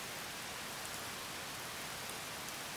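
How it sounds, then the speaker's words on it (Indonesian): Steady rain falls in the farming game Harvest Moon Save The Homeland, an even hiss of rain with no pauses, soft and constant with no talking. "Ini kita harus nerobos hujan deh."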